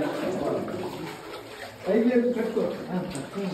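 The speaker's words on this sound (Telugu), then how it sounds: "వాటర్ ఫ్లో ఇక్కడ ఎక్కువ ఉంది, వాటర్ ఎక్కువైపోయింది" Strong water flow rushing inside a cave, a steady wash of moving water that swells partway through, with a voice talking over it.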